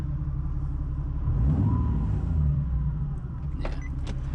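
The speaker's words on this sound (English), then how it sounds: "let's hear the rumbling a little bit" A Nissan 370Z Nismo engine idles with a low, steady rumble, close by, with a brief light jingle and a slight swell partway through.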